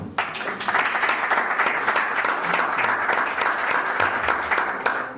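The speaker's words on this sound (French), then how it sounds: "Son Excellence, M. Amos Saint-Cyr, que je vous demande d'applaudir, s'il vous plaît" An audience at the official launch conference of a Haitian youth ambassadors network breaks into sustained applause, a close, full crowd of clapping hands that stays even and continuous throughout, with almost no talk.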